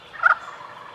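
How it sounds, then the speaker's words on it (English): A wild turkey gobbler gobbles once, a short loud rattling burst standing out over faint outdoor background, then the air goes quiet again. "You hear that gobbler"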